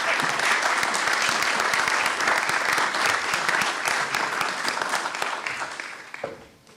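Audience applause welcoming the Consul General of Greece to the podium at a policy event, a dense steady clapping from a crowd that holds for several seconds then tapers off at the end.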